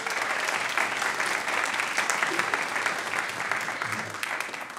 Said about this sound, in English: So can we give that a round of applause?